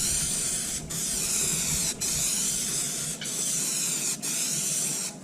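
3M High Strength contact cement sprays onto upholstery in four bursts of loud, close hissing, each separated by a brief pause.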